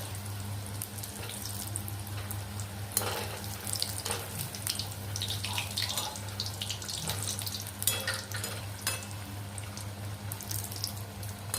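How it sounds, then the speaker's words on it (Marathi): Samosas deep-fry in oil over a low gas flame, giving a steady, bubbly, rushing sizzle with scattered crackles and pops throughout. It sounds fairly close and continuous, with no talking. "आता व्यवस्थित लालसर असं समोसे तळून घ्यायचे आहेत आणि गॅस मंदच ठेवायचा"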